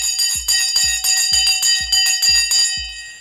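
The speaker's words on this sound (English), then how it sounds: "The bell has now gone" A stock market opening bell rings in a rapid series of about seven bright, metallic strikes with a shimmering ring, loud and close, with no voices.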